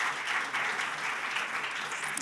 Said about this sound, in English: I ask for an applause for this video